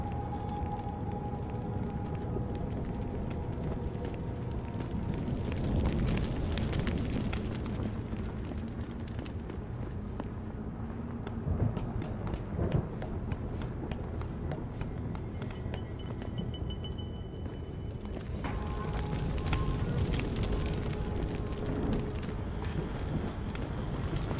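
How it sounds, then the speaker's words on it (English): Fire burning in Deus Ex: Human Revolution, with steady crackling and roaring rumble around burning pallets, a dense continuous wash that swells midway and again near the end, with scattered pops and no talk. "Everything's on fire."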